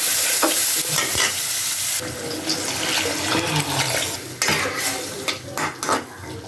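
Potatoes and vegetable stalks being sautéed with onion paste in a pan: loud continuous frying sizzle with busy spatula scraping and clattering against the pan, up close and uninterrupted by talk.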